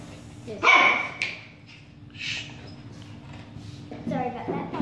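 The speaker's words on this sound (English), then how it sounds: "That was my dog." A dog barks sharply once or twice nearby, followed by softer yips and whimpers, with a person talking in the background.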